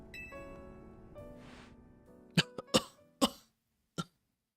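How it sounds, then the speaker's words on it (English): AZ, a character in the video game Pokemon Legends Z-A, coughs repeatedly: four or five sharp, separate coughs set against a soft sustained game music bed, with no talking. "Are you okay, AZ? That constant coughing."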